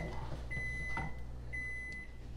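A kitchen timer goes off while rice pudding cooks on the stove, giving two long steady beeps about a second apart over a low kitchen hum.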